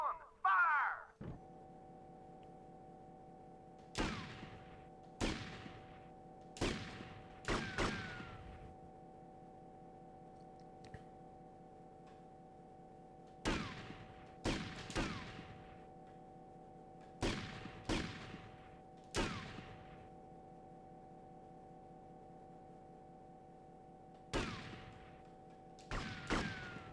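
Repeated gunshots from GTA Vice City on PS2 crack out in irregular clusters, each a sharp report with a short tail, over a steady low electronic drone.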